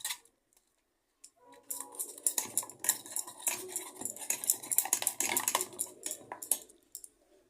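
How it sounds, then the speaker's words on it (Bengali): A spoon scrapes and clinks against a bowl as cream is stirred in, a steady run of quiet, close scraping strokes with no talking. "ক্রিমটা মিশিয়ে নেব"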